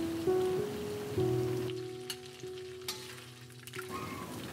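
Duck meat for a Khmer lemongrass stir fry sizzling in oil in a pan, a steady crackling hiss close up with a few light stirring clicks.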